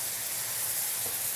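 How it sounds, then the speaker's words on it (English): Apple cider vinegar sizzles as it hits a hot pan to deglaze it, a steady close hiss of steam that holds evenly throughout, with no voices. "Now that's gonna deglaze the bottom of the pan. You see that sizzle on there?"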